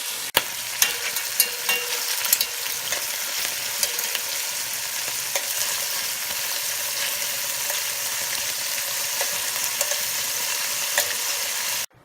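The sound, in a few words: wild boar meat browning in a hot pan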